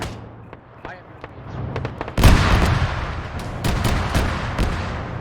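Gunfire from an armored personnel carrier in a military video game battle: a few scattered distant shots, then a loud burst of heavy fire with sustained rumbling and sharp repeated cracks, with faint talk in the background.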